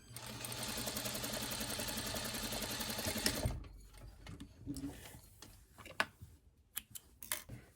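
A sewing machine stitches bias tape onto fabric in a rapid, even mechanical chatter for a few seconds, then stops, followed by quiet handling clicks and rustles close by.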